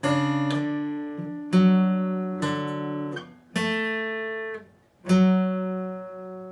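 Clean electric guitar slowly picks a song intro, a sequence of single notes and pairs, each ringing out before the next, with brief gaps between phrases.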